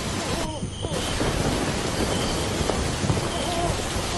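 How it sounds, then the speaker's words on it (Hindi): Heavy rain pours steadily while low thunder rumbles beneath it, a dense, continuous wash of sound close by. "कुछ समय बाद बारिश बहुत तेज हुई। आसमान में जोर जोर से बिजली कड़कने लगी।"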